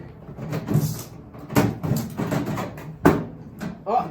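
A part is pried out of a microwave being scrapped, with loud scraping, creaking bursts and a sharp crack near the end, all close up.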